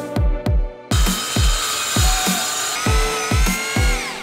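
A power drill drives screws to fix a floor plate to the floor of a mountain bike garage build in a Ford Tourneo Custom van: loud, close, repeated short bursts of motor whine with thudding pulses, briefly stopping then resuming steadily.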